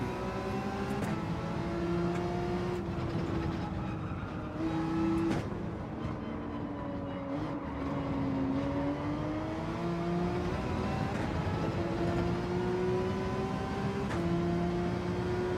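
Racing car engine in Gran Turismo 7, a steady loud drone rising and falling in pitch as it revs through gear changes, continuous throughout with brief dips between shifts.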